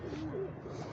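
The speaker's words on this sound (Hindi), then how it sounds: "तो ये खान साहब के न्यूरो वाले कबूतर हैं" A pigeon, one of a keeper's neuro pigeons, gives a soft, low coo lasting under a second, close by and fairly quiet, with no talk over it.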